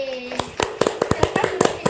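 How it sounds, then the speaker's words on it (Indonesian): In a primary school classroom, a student is given a round of applause as a short voice gives way to about ten crisp, evenly spaced hand claps, close and clear. "Sekarang beri aplaus untuk Keke."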